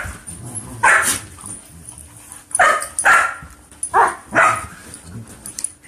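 Pet dogs bark loudly and close by at home, several sharp bursts spaced across a few seconds with quieter whimpering and low background noise between them.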